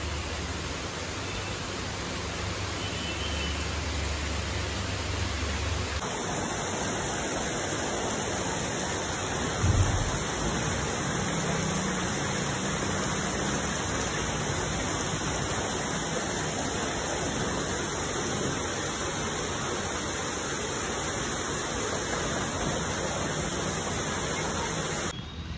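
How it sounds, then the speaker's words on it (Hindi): Light drizzle falling outdoors, a steady soft hiss that continues unbroken, with no voices heard. "बारिश रिमझिम देखी जाए।"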